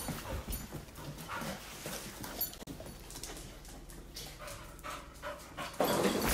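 Dogs wandering freely through a messy house pant steadily at close range, with household clatter and shuffling around them and a louder burst at the end.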